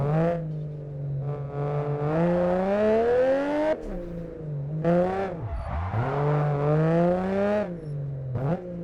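A tuned JDM car's engine revs in a racing video game, rising and falling in pitch over several long pulls with brief gear-change dips, loud and steady without talk.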